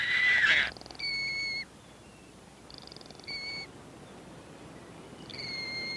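Pelicans and gray gulls call outdoors in the Galapagos in short bursts, harsh and nasal, with pauses between them over a faint background hiss.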